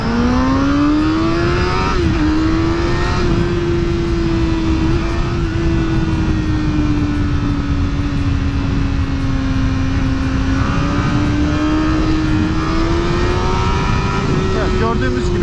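A Honda CBR1000RR motorcycle accelerating hard on an access road at Willow Springs, a loud, steady high-revving engine note that climbs through gears with brief shifts, close and continuous throughout.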